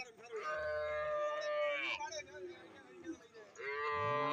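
Cattle at a buffalo and cow market give loud, drawn-out moos, several calls in a row, with people talking nearby underneath.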